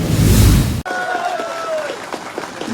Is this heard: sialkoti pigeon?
no